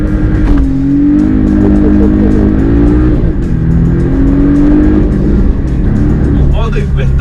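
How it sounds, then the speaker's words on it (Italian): A Porsche Boxster S 718 with a small turbo engine launching in Sport Plus mode, heard from inside as a loud, rising engine roar climbing through the revs with a shift, while someone talks over it. "Allora, proviamo una partenza con il launch control."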